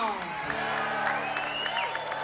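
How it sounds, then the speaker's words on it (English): Concert crowd applause and whoops for the band at a blues-rock show, steady clapping under a sustained keyboard chord and a voice addressing the audience. "How about a round of applause for the band up here?"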